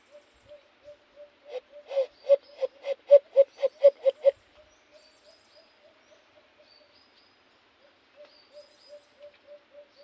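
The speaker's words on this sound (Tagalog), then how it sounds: "gagayahin natin yung huni ng ibon" Soft, repeated hooting bird calls swell into a quick pulsing burst, then fall back to quieter, evenly spaced hoots, with no talking.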